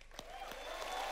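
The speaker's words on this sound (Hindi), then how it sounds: "लेकिन नोरा के लिए भी जोरदार तालियां।" Studio audience applause on a Hindi comedy television show, a brief, fairly faint wash of clapping with a few sharper claps standing out.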